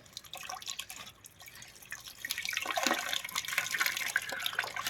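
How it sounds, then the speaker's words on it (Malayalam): Water pours and splashes from a tap into a bottle, quiet at first, then rising to a louder steady gush as it fills. "വെള്ളം നിറയ്ക്കുന്നതാണ് ഗൈസ്"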